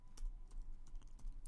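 Java code typed on a computer keyboard, a quick run of soft, close key taps in an uneven rhythm, quiet and with no voice.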